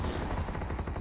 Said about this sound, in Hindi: अरे फायर तो कर दो, फायर।